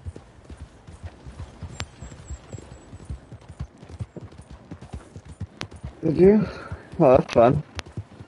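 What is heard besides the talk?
horse hooves clip-clopping in the Red Dead Online video game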